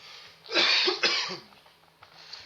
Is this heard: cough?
yes